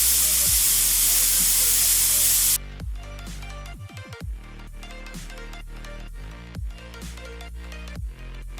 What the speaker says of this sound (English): release the steam. Be very careful.